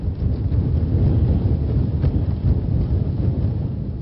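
Strong sea wind roars steadily across a coastal seaweed farm, a loud, continuous low rumble of gusts buffeting the microphone with no voices.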